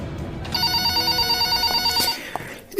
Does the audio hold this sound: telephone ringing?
yes